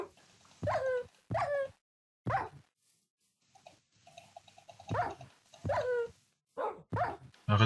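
A dog in a creepypasta horror video game gives a series of sharp, loud barks in irregular bursts, with softer whimpering sounds between them and no talk over it.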